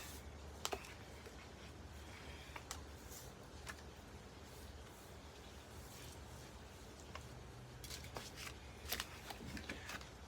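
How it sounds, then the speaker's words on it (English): Soft, close snips and light fabric rustles as scrap fabric edges are trimmed during a quilting project, faint, sparse clicks spread over a quiet background. "And trimming those edges off."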